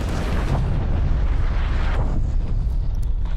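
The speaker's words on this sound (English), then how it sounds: "Incoming artillery." Incoming artillery strike in Call of Duty: Black Ops Cold War, a loud, dense rumbling barrage of deep booms and blasts rolling continuously and close, with no talk over it.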